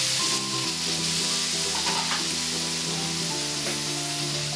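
Four tomatoes sizzle in a spoonful of butter in a pan for butter chicken, a loud, dense and continuous frying hiss close up, with faint stirring and a low background hum, no talk.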